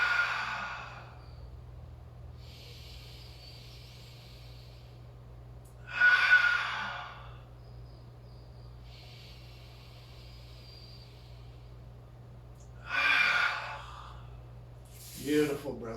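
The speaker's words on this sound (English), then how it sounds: "Look towards the open arm, open that chest, 3 deep breaths here." Deep, slow breaths taken during a yoga hip stretch: three separate breathy exhales, each about a second long and evenly spaced, close to the microphone over a quiet room with a faint tonal background.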